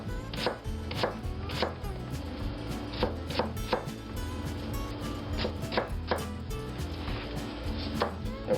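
A knife cuts lengthwise through an onion on a cutting board, striking the board in a steady series of crisp, close taps of moderate loudness with a low hum behind.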